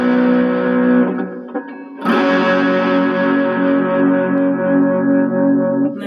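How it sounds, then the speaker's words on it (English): A distorted electric guitar, an Ibanez miKro GRGM21 short-scale, rings out sustained chords drenched in reverb, with a brief break before a loud new chord swells and lingers. "that's with a little distortion and reverb happening"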